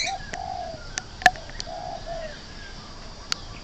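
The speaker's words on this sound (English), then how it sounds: "This is a chattering lory." Chattering lory parrot in a cage, giving a few short cooing and whistled calls with sharp clicks between them, close by and fairly quiet over a soft background hum.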